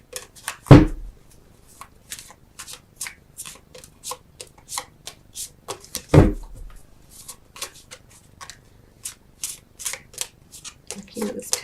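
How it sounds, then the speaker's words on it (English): Tarot cards are shuffled by hand in quick, crisp riffles and taps, with two louder thumps as the deck is knocked down. "let me get 3 cards though for you"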